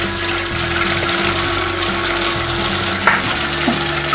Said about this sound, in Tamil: இப்போ முட்டை நல்லா சுருளை வதங்கிருச்சு